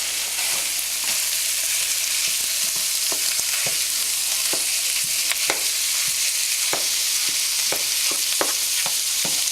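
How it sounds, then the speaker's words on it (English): Ground beef sizzles and fries steadily in a pan for a shepherd's pie, with repeated sharp scraping and tapping clicks as a utensil breaks up the meat. "I will just break up my ground beef here a little bit."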